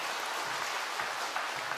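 Sustained applause from a church congregation, an even wash of clapping throughout with no voices standing out.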